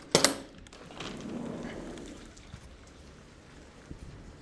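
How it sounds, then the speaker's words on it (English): Heavy rain pours on a very rainy afternoon in Los Angeles, a soft steady wash of drops beginning with a couple of sharp knocks and then settling into a constant patter with occasional faint taps. "Oh, it's a very, very rainy day today"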